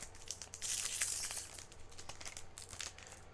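Foil card wrapper of a Digimon BT09 pre-release booster pack being torn open up close, a sustained crinkly rip lasting a couple of seconds followed by softer crumpling rustles, with no talking.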